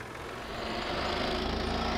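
Engine of an Indian tractor in Farming Simulator 22 grinds at a steady, loud drone, its rough mechanical rumble holding constant and close throughout with no voices.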